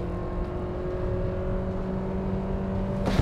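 A car in a braking test gives a steady, close engine drone that holds evenly for about three seconds, swelling briefly right at the end.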